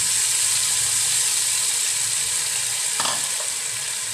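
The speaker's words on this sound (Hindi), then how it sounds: "उसके बाद ये मैं प्यूरी ऐड कर रही हूँ जो हमने बनाई है।" Tomato puree hits a pan of frying garlic with a close, steady sizzle and hiss, interrupted by a brief clatter of stirring.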